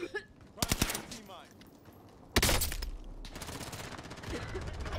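Rapid automatic gunfire bursts in a Call of Duty: Modern Warfare firefight, a dense rattling volley early on and a louder sustained stretch of shots later, with players' voices talking over the action.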